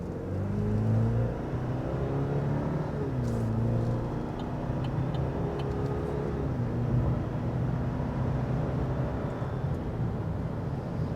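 Four-cylinder engine of a 2024 GMC Sierra 1500 Pro pickup during a road test drive, a steady droning hum from inside the cab with shifting engine tones and mild revving, continuous and fairly loud, with no talking.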